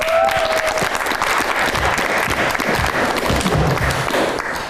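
An audience applauds a guest named Gulnar at a Kyrgyz talk show taping, with dense, sustained clapping that stays loud and even throughout before tapering slightly at the end.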